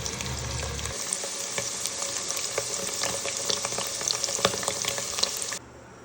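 Paneer and cumin frying lightly in a pan for aloo matar paneer, giving a soft, even sizzle with scattered small crackles that cuts off abruptly near the end.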